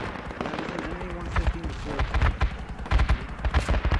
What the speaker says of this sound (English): Ooh, machine gun shooting.